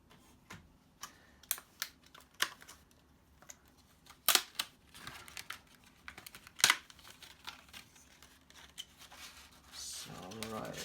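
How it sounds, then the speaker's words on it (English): A memory module and an SD card are unpacked from crinkly plastic packaging beside a ZOTAC Magnus 1080 mini PC, giving sharp, scattered clicks, snaps and rustles close by. A louder crinkle comes at the end. "So let me unpack my memory and the SD card."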